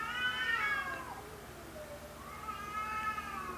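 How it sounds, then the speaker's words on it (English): A couple of cats meowing back and forth, two drawn-out wavering cries separated by a pause, fairly close and alone without talk. "It's a couple of cats."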